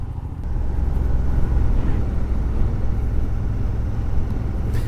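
A heavy vehicle rumbles past close by, a steady low engine drone filling the whole stretch with no talking.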